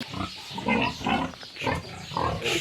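Pigs grunting and squealing in an IMO pig sty, repeated bursts of snorts and squeals close by, fairly steady and loud over the pen's background.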